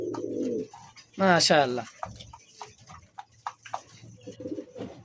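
A pair of Lakkha pigeons coos softly at a coop, low murmuring calls heard close by while someone talks over them.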